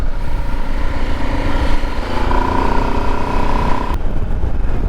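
A Husqvarna Norden 901 motorcycle engine drones steadily while riding, a close, continuous hum with a sustained tonal whine in the middle that cuts off abruptly near the end.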